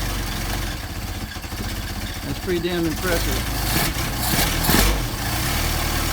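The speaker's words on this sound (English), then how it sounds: "have a cold choke idle on these things" A carbureted engine idles on cold choke before warming up, a steady low running rumble beneath a man's close-up talking, with some clattering handling noises partway through.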